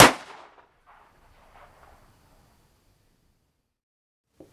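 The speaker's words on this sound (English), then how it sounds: "pull back the hammer, aim at your target." Metal puzzle that transforms into a .45 caliber muzzle-loading pistol, fired once: a sharp, loud crack that decays with faint echoing reverberation, followed by near silence and a small click at the end.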